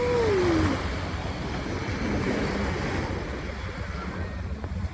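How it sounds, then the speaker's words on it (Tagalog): Sea waves wash onto the shore at East Coast Beach, Singapore, a steady broad rush of surf mixed with heavy wind buffeting the microphone, with a faint high tone near the start. "umahampas yung alon"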